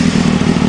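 A 2001 Honda Hornet motorcycle engine running loud and close, a steady dense rumble with a throbbing low pulse and no talk, too brief to show a clear rev.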